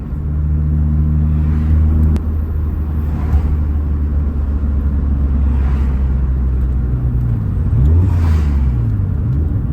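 A Nissan Skyline R32 runs on high turbo boost, its engine a loud, continuous close rumble from inside the car, with pitch rising and falling as it revs and shifts.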